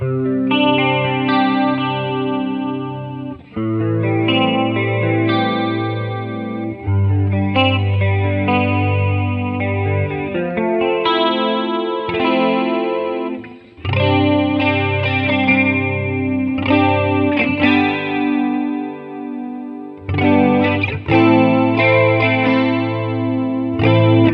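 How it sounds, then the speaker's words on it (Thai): An electric guitar with a shimmering chorus effect plays picked chords and riffs continuously, full and slightly overdriven, with short gaps between phrases. "อันนี้ก็ใส่แบบเสียงคอรัสเข้าไปนะ มันก็จะเป็นซาวแบบอ่าร็อกๆดีเวลาปิกกิ้ง"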